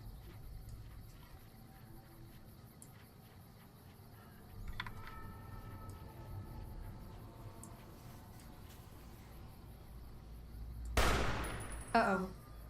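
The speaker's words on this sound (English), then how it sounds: "What are you shooting at, Eddie?" Gunfire in Fallout New Vegas, with a few faint shots and clicks over a low background, then a loud, sharp burst of gunfire near the end followed by another quick shot.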